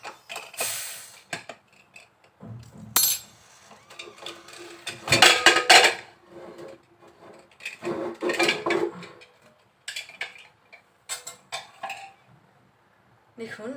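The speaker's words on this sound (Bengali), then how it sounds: "এখন আমরা প্রেসার কুকারের ঢাকনাটা খুলে নিব দেখুন" The lid of a pressure cooker used for cooking beef is worked open with metallic clanks, creaks and scraping clicks in short bursts separated by pauses.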